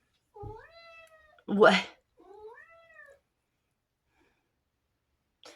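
A pet cat gives two drawn-out meows, close and clear, with a short spoken word and a breathy burst between them, then quiet.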